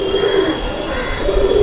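Madrasi pigeons coo nearby, low throaty rolling calls repeating over a steady high whine in the background, clear and fairly loud.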